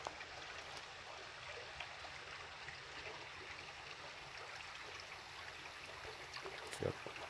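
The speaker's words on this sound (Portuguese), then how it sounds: "Estou mostrando a água aqui. E a água minando a própria pedra." Water seeping and trickling out of rock beneath a stone dam wall, a faint, steady wash of running water heard from close by, with a brief soft knock near the end.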